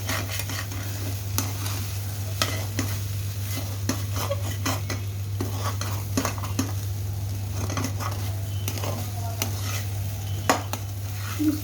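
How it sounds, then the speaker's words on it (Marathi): Leftover jowar or bajra bhakri poha being stirred and pressed as it roasts in a pan: repeated scraping and tapping of a spoon against the pan over a soft sizzle and a steady low hum, with no speech. "पोहे जसं आपण हलवतो तसं हलवत राहायचं. दाबून घ्यायचं. सारखं खालीवर भाजत राहायचं"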